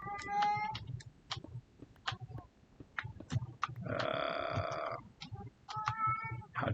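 A pet cat meows in the background, several drawn-out meows with one louder, longer yowl midway, over low room noise and faint clicking.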